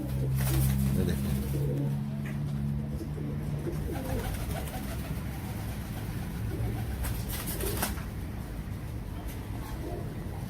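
Teddy breed pigeons coo in low, repeated phrases near the start, then fade under wing flutters and someone talking over the birds.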